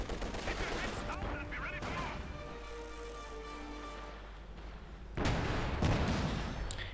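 Dense bursts of machine gun and rifle fire from a DP light machine gun and anti-tank rifles in the Company of Heroes 2 war strategy game, loud and continuous, with a heavier crack of gunfire near the end.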